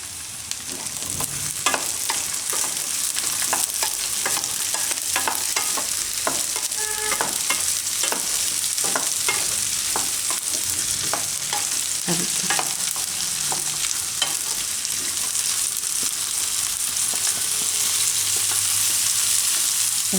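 Green chickpeas and onions frying in oil, a steady hiss of sizzling broken by frequent scraping and clinking taps of a spoon stirring the pan, close and continuous.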